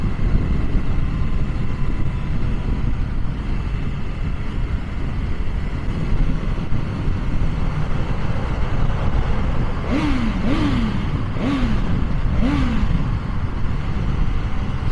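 A 2020 BMW S1000 R motorcycle being ridden, with a loud, steady engine drone under heavy wind rush, followed by several quick rising and falling revs or gear changes near the end.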